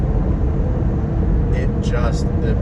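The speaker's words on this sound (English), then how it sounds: "Can you hear that little 4-cylinder working really hard?" The small four-cylinder engine of a 2022 Jeep Grand Cherokee 4xe plug-in hybrid drones steadily under hard throttle, a low rumble beneath someone talking over it.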